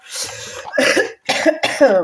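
Several sharp, loud coughs in a quick burst, separated by brief pauses, close to the listener.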